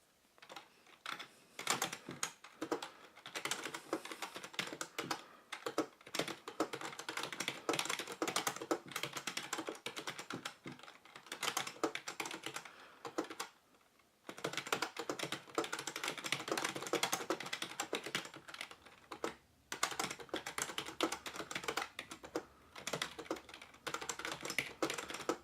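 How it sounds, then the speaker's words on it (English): Continuous typing on a Perixx Periboard-512II ergonomic split keyboard with a split spacebar, rapid close-up key clacks in bursts with a brief pause midway. "I made some typing errors there, I can tell, because I was a little bit hesitant on hitting the keys there"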